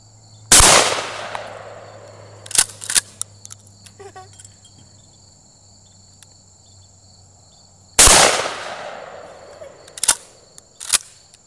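A 12-gauge shotgun fired outdoors, with two loud, sharp blasts about seven seconds apart, each followed by a short decaying echo and a few smaller clicks and knocks of handling, with steady insect chirping behind.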